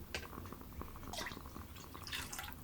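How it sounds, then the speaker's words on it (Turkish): Water draining from a strainer into a container while making banana peel liquid fertilizer, a soft continuous trickle with scattered drips, close and fairly quiet, no talking. "süzgeçten çıkan altına akan bu suyu da tekrardan diğer kabıma aktarıyorum"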